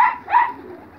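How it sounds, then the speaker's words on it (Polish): Two soft, throaty coos from young racing pigeons sound close by, one right after the other, with nothing else around them. "Tu ostatni oblocik gołębi"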